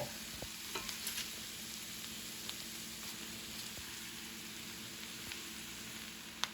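Cabbage frying in bacon grease and a little butter, a soft, steady sizzle with faint crackles and light stirring, fairly quiet and without talk.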